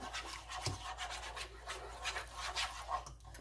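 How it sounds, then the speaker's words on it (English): Milk being whisked in a bowl, a close, quiet, continuous scratchy rubbing with quick repeated strokes. "And start whisking away. Those lumps."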